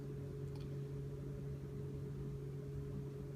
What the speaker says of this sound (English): you can hear the fan has turned on